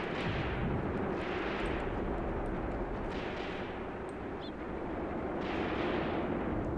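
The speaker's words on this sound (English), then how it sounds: "Still heavy machine gun fire going over there to the Soviet officers" Heavy machine gun fire in a World War II Eastern Front battle video game, a constant distant roar of continuous gunfire and rumbling battle noise with faint repeated bursts, steady and loud throughout with no voices.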